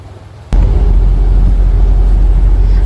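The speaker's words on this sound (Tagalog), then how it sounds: "Ramdam na po ang malakas na hangin pati na ang manakanakang pag-ulan dito sa bayan" Strong wind roars steadily ahead of a typhoon in a town in Valladolid, Negros Occidental, starting abruptly after a brief quieter moment and then holding as a loud, broad, constant rumble with no talking.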